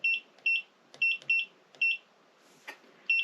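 An Elegoo Mercury Plus V3.0 wash and cure station gives a run of short, high electronic beeps, close and clear in a quiet room, sounding in quick pairs and singles.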